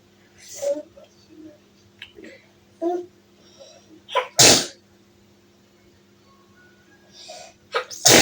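A single sharp sneeze bursts out midway, surrounded by quiet murmuring voices and small clicks in a hushed room.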